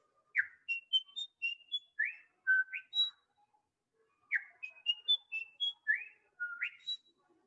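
Malabar whistling thrush in the Sahyadri hills whistling its song alone and clearly, two bursts of rapid, rising and falling melodic notes separated by a short pause.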